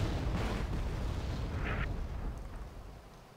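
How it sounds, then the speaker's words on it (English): An artillery barrage striking tanks in the Wargame: AirLand Battle video game, heavy rumbling booms rolling together into a dense, loud roar that slowly fades toward the end. "As these tanks just get hit by artillery barrages"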